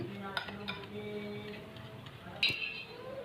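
Crushed biscuit and cocoa powder being mixed in a bowl, with a few soft spoon scrapes and a sharp clink against the bowl, quiet and close, over faint tonal background sound.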